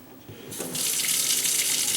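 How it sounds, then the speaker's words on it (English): Water starting to run from a kitchen faucet's pullout sprayer with a partly blocked aerator, a steady close hiss that kicks in after a brief clunk and keeps flowing. "this is plenty of water to wash your hands and to wash a few dishes now and again"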